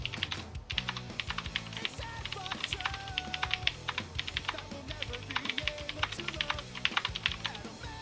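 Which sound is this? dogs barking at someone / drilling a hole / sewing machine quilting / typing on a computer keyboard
typing on a computer keyboard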